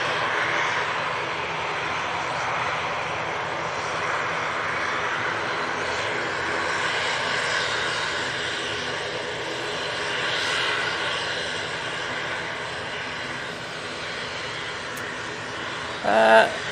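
A Virgin Atlantic airliner departs Manchester Airport close by, a broad sustained engine roar that swells and then slowly eases, with a brief sharp noise right at the end.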